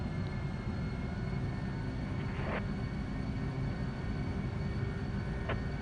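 Airliner engines in a flight simulator held at full throttle during the takeoff roll, a steady loud broadband roar with a low rumble that continues without a break, two faint brief clicks standing out over it.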